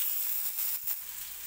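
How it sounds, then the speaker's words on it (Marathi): Finely chopped garlic dropped onto onions already frying in oil makes a brief, bright hiss of sizzling that dips and flares for a moment. "लसूण टाकून घेते।"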